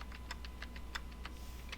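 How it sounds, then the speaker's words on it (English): Rapid keystrokes on a computer keyboard while numbers are entered into a statistics program, a steady run of crisp close clicks with no talking. "you can actually just start typing in your numbers"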